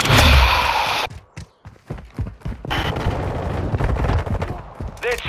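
Gunfire in the Modern Warfare 2 video game, loud bursts of automatic fire and heavy single shots in quick succession, briefly pausing before the shooting resumes, with players' voices mixed in.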